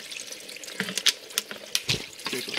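Transmission fluid drains from a vehicle during a fluid service, a steady close pour of liquid with a few sharper splashes and gurgles, alone without talk.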